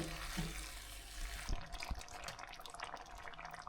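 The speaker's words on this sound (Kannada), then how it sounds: "ವೆಜಿಟೇಬಲ್ಸ್ ಎಲ್ಲ ಬೆಂದಿದೆ ಅಂತ ಚೆಕ್ ಮಾಡಿ ನೀರು ಆ್ಯಡ್ ಮಾಡೋಣ." Water pours and splashes into a biryani pot of nearly cooked vegetables in a home kitchen, a fairly quiet trickling stream that shifts to scattered drips and splashes partway through, with no talking.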